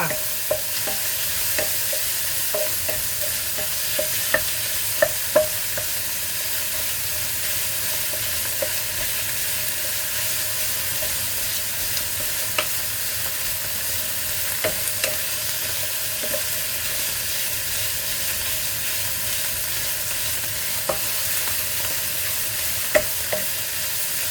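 Dim sum filling stir-fried in a pan with a little soy sauce and sesame oil, a steady soft sizzle with small scraping clicks from the spatula throughout.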